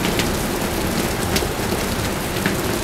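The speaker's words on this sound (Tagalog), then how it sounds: "Narinig nyo, karuskos ng ulan." Heavy rain drums steadily on a building roof, a dense continuous wash with scattered louder drops and a low rumble beneath, no voices.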